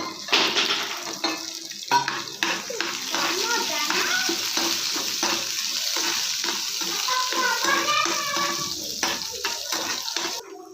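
Urad dal and chana dal tempering with curry leaves and chopped green chillies, stirred in a pan over a low flame, gives a steady close sizzle and hiss broken by frequent scraping and clinking of the spoon against the pan.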